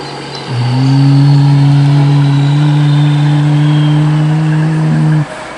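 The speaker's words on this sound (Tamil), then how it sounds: "ஒரு சத்தம் கேட்டுச்சு இப்போ ஏதோ ஒரு வண்டி வருது" A loud, steady engine drone with a low hum rises in quickly, holds for several seconds, then cuts off abruptly; no voices.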